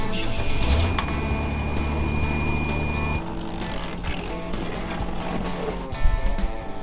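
A snowcat engine drones steadily, dragging a broken-down Ford Bronco-based truck backwards; a continuous low rumble with a steady whine that shifts tone midway, plus some clanks and knocks.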